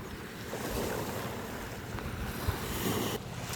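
Sea waves wash onto a beach in a soft, continuous rush, with gusts of wind buffeting the microphone and no talking.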